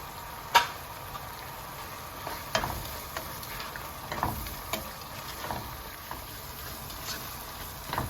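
Garam masala frying in a pan of oil while preparing a Kerala-style beef roast (beef peralan), a soft steady sizzle with occasional clicks of stirring, no talking.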